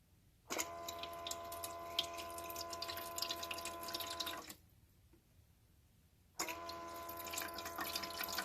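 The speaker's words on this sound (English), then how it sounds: "You can probably hear it now pumping the water." An Igloo portable ice maker pumps water into its bucket-like compartment with a steady mechanical hum and watery trickle. It runs for about four seconds, stops briefly, then starts again, close and continuous.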